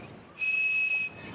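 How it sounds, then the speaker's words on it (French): A toy whistle is blown once to unlock the long-distance phone network, giving a single steady, pure high-pitched tone lasting under a second over faint hiss. "quand on soufflait, on obtenait une tonalité précise. Cette tonalité permettait d'activer le réseau téléphonique longue distance."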